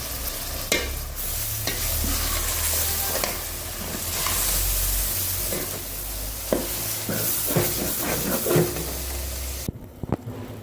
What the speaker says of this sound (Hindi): अब मैं इसमें ये सब्ज़ी डालने लगी हूँ, मूलियाँ और पालक